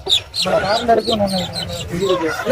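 A rooster at a busy Monday livestock market in Kunnathur, Tirupur, gives short clucks amid the bustle, with people talking close by over the calls.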